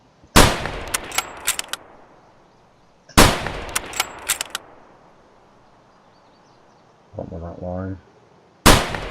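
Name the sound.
gunshots in the video game Escape from Tarkov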